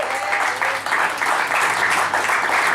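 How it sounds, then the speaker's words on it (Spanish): A church congregation applauds steadily in a continuous wash of clapping from many hands, lasting the whole moment without a break. "¿Cuántos dan un aplauso a Cristo por la vida de los niños?"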